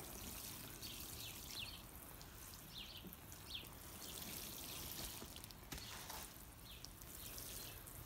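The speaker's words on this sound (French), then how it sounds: "à l'aide de l'arrosoir" Water poured from a watering can onto freshly turned soil around newly planted Brussels sprouts, a faint steady trickle and splash that continues throughout.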